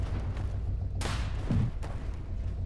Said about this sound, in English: Can hear things snapping and breaking